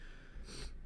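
A single short nasal sniff or snort from a person with a stuffy nose, close and quiet, lasting under a second.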